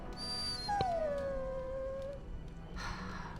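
A war dog in Dragon Age: Origins lets out one long, drawn-out whine that slides downward in pitch. It sits over steady game ambience, with a soft rustle near the end.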